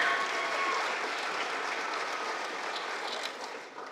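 An audience at a hall of fame ceremony claps in a steady, warm round of applause that fills the room throughout and gradually tapers off at the end.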